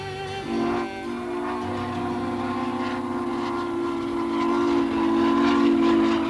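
A steam train runs with a sustained, loud whistle blowing over the low rumble of the moving train, the whistle holding steady for several seconds.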